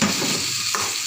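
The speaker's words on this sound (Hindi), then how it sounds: "अब हमने इसे थोड़े से हिलाकर वेल मिक्स कर इसे हमने दम पे छोड़ देना है" A dish being stirred and mixed in a pot before dum cooking, giving a continuous close sizzle with a brief scrape of the spoon, and no voices.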